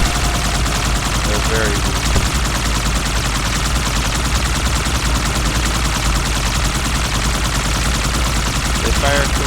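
Rapid turret gunfire in Halo 2, a dense, continuous stream of loud shots with no pause throughout, while someone talks over it.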